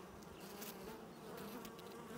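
Honeybees buzz densely around a queen at an open hive, a close, steady swarm drone with individual bees whizzing past the listener.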